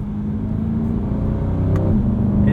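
A 2020 Chevrolet C8 Corvette Stingray Coupe engine drones steadily under acceleration, its pitch stepping down sharply with a quick paddle-shift gear change near the end, loud and close with no talking.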